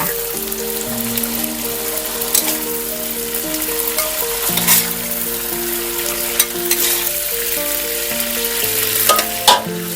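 Canned fish stir-fried with eggs in a hot pan gives a loud, steady sizzle with scraping stir strokes and occasional clinks of utensil on pan. A tonal hum or music runs beneath it and no one speaks.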